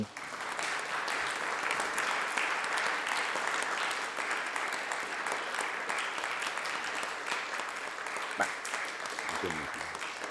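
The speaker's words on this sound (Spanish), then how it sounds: "Un aplauso para esto." Sustained applause from a crowd, steady clapping filling the whole stretch with a few louder individual claps near the end.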